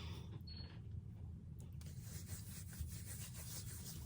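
Seasoning mixture rubbed by hand onto a raw pork shoulder, a steady soft rubbing and scraping texture with a low background hum throughout.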